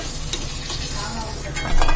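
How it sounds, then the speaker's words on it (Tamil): Elephant foot yam pieces frying in hot oil, with a steady close sizzle and bubbling that swells louder near the end, plus occasional stirring scrapes. "அதனால கொஞ்சம் கொஞ்சமாக வறுத்துக்கலாம்"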